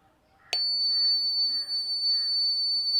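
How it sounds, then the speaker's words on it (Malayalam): A sudden switch click, then a steady, loud high-pitched electronic buzzer tone from a homemade water tank alarm that holds continuously to the end. "നമ്മുടെ സ്വിച്ച് ഓൺ ആക്കിയാൽ ബസർ അടിക്കും"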